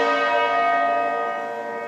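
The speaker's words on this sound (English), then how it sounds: "church bells, tolling at Westminster Abbey and St. Paul's Cathedral" Large church bells toll at Westminster Abbey and St Paul's Cathedral in London during a memorial for Queen Elizabeth II, a loud, sustained ringing with rich overlapping tones that slowly decays.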